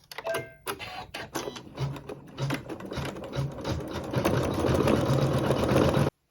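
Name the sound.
sewing machine sewing satin stitch along fabric edges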